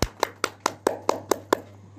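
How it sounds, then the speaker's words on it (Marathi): Eight sharp hand claps in a steady, even rhythm, close and clear, from a speaker at a Sant Ravidas Jayanti gathering, with a low steady hum underneath and no talk. "मी एकदा तुमच्यासाठी मी टाळ्या वाजतो"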